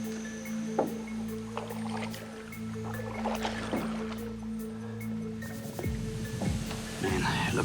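A small boat creeps slowly along a narrow, almost stagnant creek, with soft water lapping, a steady low motor hum and occasional splashes, and someone talking quietly over it.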